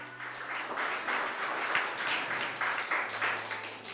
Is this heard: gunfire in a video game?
no